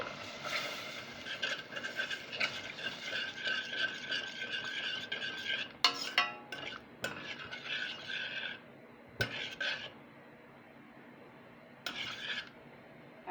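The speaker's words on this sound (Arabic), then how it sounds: "احط شويه خل حلوين كده واقلب" Vinegar stirred into cow trotters in a pot, a metal spoon scraping and rasping repeatedly against the pot in uneven strokes with brief pauses, close and clear, no speech.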